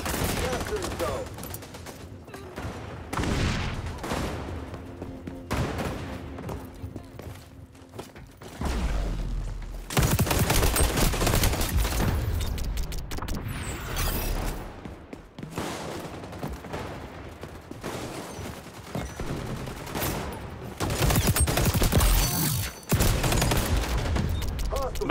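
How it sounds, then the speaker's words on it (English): Shotgun blasts and other gunfire sound during an online shooter match fighting over a capture zone, arriving in loud clustered bursts and rattling volleys spread over about twenty-five seconds, with a player talking between them. "But how would that shotgun shoot from that far?"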